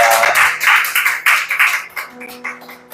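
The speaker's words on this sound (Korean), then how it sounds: "살아계신 하나님께 영광의 박수를 올리겠습니다" A church congregation claps during Sunday morning worship, several loud bursts of hand clapping that thin into scattered, uneven claps with a low held musical tone underneath.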